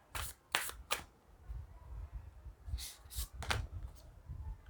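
Tarot cards are shuffled close by, with a few quick riffling bursts, a softer stretch of card handling and then another pair of riffles, all fairly quiet and without talking.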